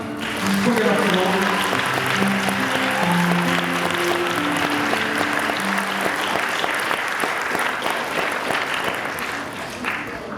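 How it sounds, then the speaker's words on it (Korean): Wedding guests give sustained applause as the bride and groom bow, clapping loudly and evenly throughout while sustained music tones play underneath and a voice talks briefly early on. "인사! 축복의 박수로."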